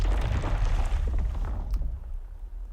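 Ocular Sounds Cinematic Stone effect like rocks tumbling off a cliff: a deep, rumbling crash of grinding stone that swells, then thins out into scattered debris and fades away.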